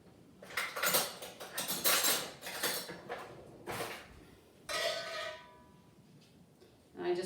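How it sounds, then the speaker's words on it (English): Metal spoon scraping leftover bananas out of a cake pan, a run of close, bright clattering scrapes and knocks with short pauses between strokes. "I'm going to just grab a spoon and scrape those out and put them on top"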